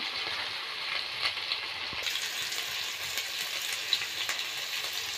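Turmeric, chili powder and chopped chilies sizzle and fry steadily in hot oil, a continuous close crackle with small pops throughout and no voices.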